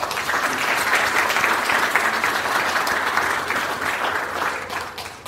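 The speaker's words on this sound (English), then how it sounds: "Let's give her a round of applause." An audience at a university sports awards ceremony claps in a sustained, even round of applause lasting several seconds, full and close, with no talking over it.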